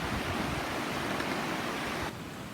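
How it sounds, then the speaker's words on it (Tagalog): Sinulom Falls, a waterfall in the mountains, roars in a dense, steady rush of falling water that fills the whole scene close by, then drops slightly in level near the end, with no voices over it. "Mga kaibigan, ito po ang Sinulong Falls, no?"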